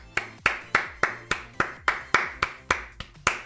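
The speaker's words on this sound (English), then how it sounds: "Give yourselves a round of applause" Single pair of hands clapping during an RLCS esports watch party stream, about a dozen sharp, evenly spaced claps close to the microphone at a steady rhythm.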